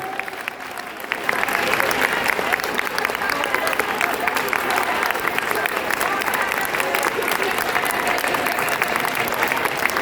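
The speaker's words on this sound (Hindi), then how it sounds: "ताली बजाएं सज्जन" A church congregation at an Easter service claps. The dense, continuous clapping starts after a brief quieter moment and stays loud and sustained throughout.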